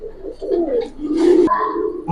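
Giribaz pigeons of the Palla line coo in a short run of soft, throaty calls that rise and fall, fairly close, with a faint voice in the background.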